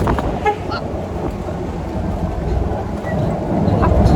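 Strong wind buffets the microphone aboard a boat on a scuba diving trip in Bohol, a loud continuous rumble with gusting swells and no clear voices.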